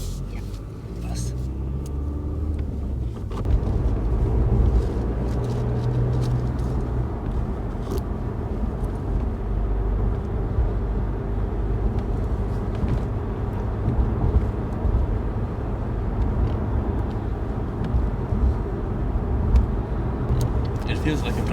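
A manual-transmission car cruises on a mountain road at around 90 km/h, its engine giving a deep, steady rumble that swells after a few seconds, while people talk inside the cabin.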